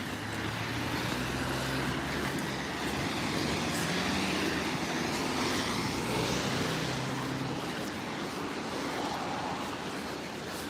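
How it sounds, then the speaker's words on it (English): Steady stream of cars passing on a Zurich street, continuous loud roadway rumble and tire noise throughout, close by, with no talking. "because of all these cars going by."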